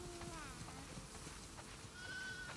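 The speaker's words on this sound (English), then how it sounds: "Wow, that's a lot of sheep." Sheep bleating in a farm scene from the video game The Last of Us Part II, with several wavering bleats over a dense, continuous background of ambient game noise.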